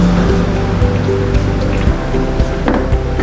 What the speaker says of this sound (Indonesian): kita siram dulu air panas untuk membersihkan